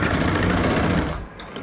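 A sewing machine runs a steady, close whirring stitch along a kurti seam at half-inch margin, then slows and stops.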